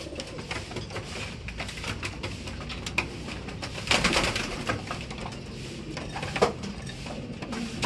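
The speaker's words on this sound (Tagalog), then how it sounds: "Sarap tignan ng mga kalapati kapag ano eh," Pigeons in a flyer loft coo repeatedly over a dense, steady bed of fluttering and shuffling, with one louder burst of calls midway, the birds active and close by.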